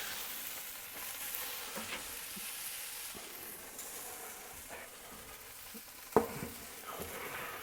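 Burger patties sizzle on a grill in a steady, crackling fry that runs throughout, with a few small clicks and a sharp spatula scrape near the end; no one speaks.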